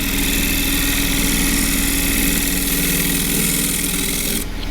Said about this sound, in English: doing it with a scraper. More of a stroker than a scraper really, you don't want too much pressure against the wood